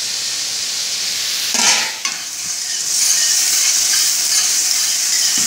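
Onions sizzle and hiss steadily in a hot pan, interrupted briefly by a stirring scrape before the frying hiss swells again.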